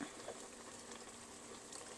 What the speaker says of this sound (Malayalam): ഇങ്ങനെ നന്നായിട്ട് തിളച്ചുകൊണ്ടേയിരിക്കുന്നു.